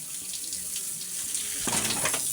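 Tap water runs steadily into a basin for washing pigs, a close, continuous splashing hiss that swells slightly louder toward the end, with no talk over it.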